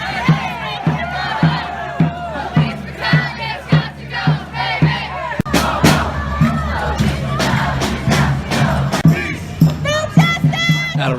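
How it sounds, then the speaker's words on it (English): Protesters at a justice rally chant in rhythmic unison while marching toward Ann Arbor City Hall, a loud, close crowd with repeated shouted phrases and sharp bursts of cheering. "The protesters then started to march towards Ann Arbor City Hall, chanting and pumping their signs in the air as they went"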